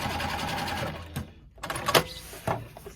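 A sewing machine runs fast while free-quilting faux leather, a dense stitching whir that dips into a brief pause midway, then restarts in short bursts.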